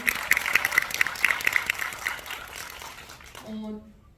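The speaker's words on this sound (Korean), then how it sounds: "다시 한번 박수 부탁드릴게요." Applause from the audience at a film panel talk rattles on briefly, then thins and fades away within a few seconds, leaving a faint low hum at the end.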